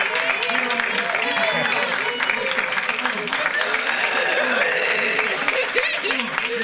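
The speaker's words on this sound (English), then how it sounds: "So let's give them a round of applause." Applause and crowd noise fill a school board meeting, a steady dense wash of clapping and cheering from a large audience that runs without a break for several seconds.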